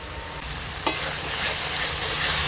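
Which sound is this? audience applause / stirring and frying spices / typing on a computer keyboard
stirring and frying spices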